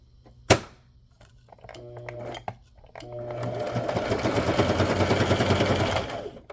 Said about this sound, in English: So what I'm going to do is go ahead and sew that on.